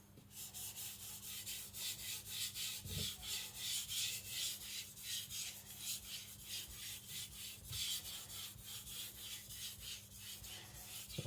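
Tojiro Shirogami white-steel nakiri knife drawn across a sharpening stone under just its own weight, giving soft, rhythmic rasping strokes repeated about twice a second, close and quiet with no talking.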